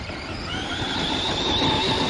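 A Traxxas Stampede 4x4 brushless RC monster truck on sledgehammer tires drives at full speed, its electric motor whining steadily over loud continuous tire and drivetrain rumble, close and alone.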